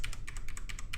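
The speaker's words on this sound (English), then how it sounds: "mechanical keyboard sounds, right? I need to dampen my keys" Rapid typing on a mechanical keyboard, about ten crisp clicky keystrokes in quick, slightly irregular succession within one second, close and clear with no talking.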